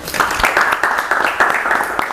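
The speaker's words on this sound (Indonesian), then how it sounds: "Tepuk tangan buat Divo." A group claps for a presenter named Divo during an automotive engineering teaching assessment, a short burst of scattered applause mixed with voices and chatter in a room.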